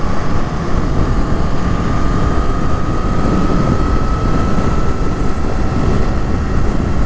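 A Kawasaki Eliminator 500 motorcycle engine roars steadily as it rides along, with constant wind rush over the microphone and no voices.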